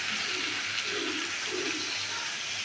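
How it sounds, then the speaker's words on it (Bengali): Water poured into a pan of sizzling Bengali mixed vegetable curry, a steady broadband hiss and splash running continuously and close for the whole stretch, with no voices. "আমি এবার অল্প জল দেবো"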